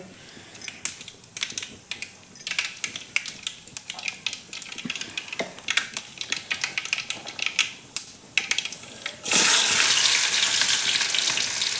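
Cumin and mustard seeds fry in hot oil in a kadai over a wood-fired stove, with rapid crackling pops scattered through the clip, then a sudden loud continuous sizzle takes over near the end.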